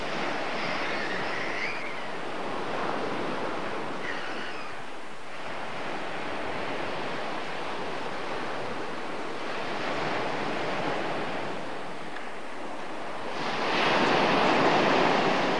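Sea waves on the Black Sea wash and surge in a steady broadband roar with wind buffeting, swelling louder near the end, with no voices.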